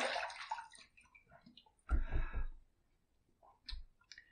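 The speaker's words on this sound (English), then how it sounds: "first pass done, let's rinse." A razor being rinsed under water after the first shave pass, with brief splashing bursts and light taps and clicks, close and fairly quiet with pauses between.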